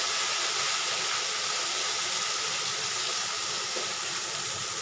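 Tomatoes sautéing in a pan for an okra stir-fry, a steady broadband sizzle and hiss that holds evenly throughout with no talking over it.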